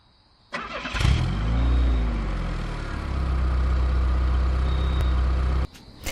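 A person's voice imitates a car engine with a loud, revving drone that swells and dips in pitch, then settles into a steady rumble for about five seconds before stopping abruptly.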